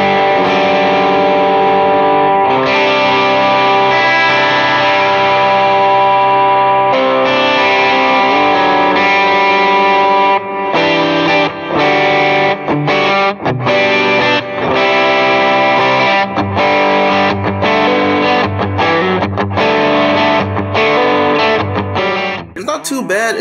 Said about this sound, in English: You can kind of get a low gain D20 when I crank up all the drives on this preset.